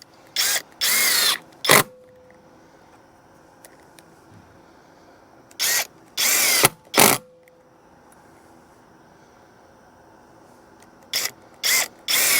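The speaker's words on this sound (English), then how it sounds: "they are a coated screw, so I don't have to worry about them being corroded by the treated material. I'm taking the screw heads just below the surface a little bit." A power drill drives coated screws into pressure-treated boards in three separate bursts, each a pair of loud whirring runs ending in a brief clutch ratchet, with quiet gaps between.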